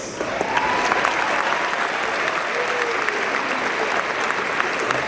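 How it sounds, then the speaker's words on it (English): A graduation ceremony crowd applauds the graduates, steady dense clapping from a large audience in a hall, loud and continuous throughout with no voices over it. "Please join in another round of applause for all of our bright, capable, hard-working, honored graduates."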